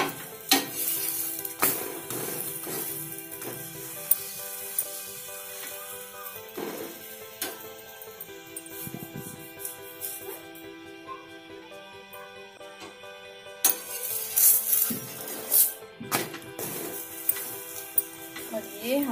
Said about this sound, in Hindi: दूसरी साइड से भी ऑयल लगा देते हैं, इसे स्लो फ्लेम पे ही पकाना है।